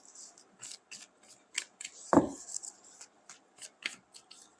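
Tarot cards are shuffled by hand in a series of short, crisp riffling flicks, fairly close and quiet, with one louder tap or thump partway through and no voices.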